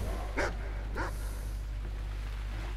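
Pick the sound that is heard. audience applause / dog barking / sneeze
dog barking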